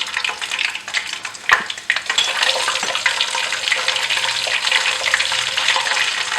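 Mustard seeds and cumin sizzle in hot oil, a steady hiss filling the clip with a sharp crackle near the middle, close and fairly loud, no voices.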